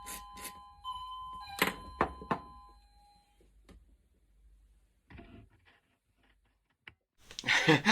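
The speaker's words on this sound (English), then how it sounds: "somebody rings the doorbell" A doorbell chimes indoors with a couple of bright tonal rings, followed by scattered knocks and handling noises and a louder rustle at the end.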